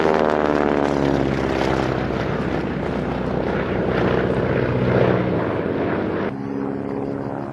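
A vintage Avro Anson twin-engine coastal and maritime patrol aircraft drones loudly overhead at Old Warden. The propeller engine note is continuous and shifts gradually in pitch, then drops in level near the end.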